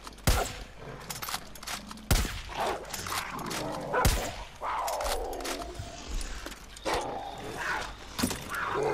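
A dog in the video game Far Cry 5 barks in sharp, loud bursts every couple of seconds, close, amid game noise.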